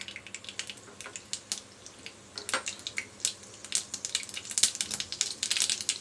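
Mustard seeds splutter and pop in a little hot oil in a kadhai on a gas stove, with irregular sharp crackles and snaps growing busier over several seconds, close up and alone.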